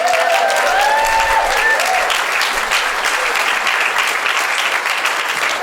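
An audience applauds its supporters and members at an International Women's Day celebration, steady dense clapping filling the whole stretch at a loud, even level with no break.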